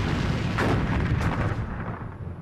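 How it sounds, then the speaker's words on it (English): Heavy battleship guns of Bismarck and HMS Hood exchanging fire, a loud booming broadband blast with a couple of sharp reports inside a rumbling roar that decays slowly, no voices. "the German battleship Bismarck and heavy cruiser Prince Eugen, exchange fire with the pride of the British Navy, HMS Hood and Prince of Wales"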